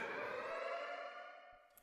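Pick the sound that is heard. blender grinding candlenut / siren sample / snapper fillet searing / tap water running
siren sample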